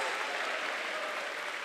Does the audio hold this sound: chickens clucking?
no